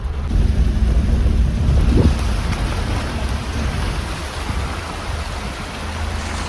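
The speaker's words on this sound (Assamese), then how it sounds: "বহুত দিনৰ মূৰত আজি বৰষুণ দিছে।" Heavy monsoon rain pours steadily in rural Assam, a dense, loud hiss of water on surfaces that fills the whole stretch, with a brief low rumble near the start and no talking.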